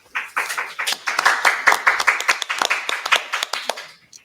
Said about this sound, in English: Wow, applause.